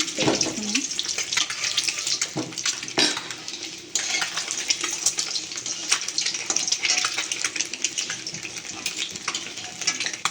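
Eggs frying in hot oil in a home kitchen pan give a continuous close crackle and sizzle, with a few clinks of a utensil.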